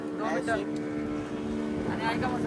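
A small motorboat crossing rough sea off Nivati beach, with a steady humming engine drone and wind beneath people talking close by.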